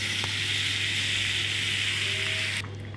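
Red pumpkin pieces hiss and sizzle steadily as they drop into hot tempering oil, a continuous close frying sound that cuts off sharply near the end.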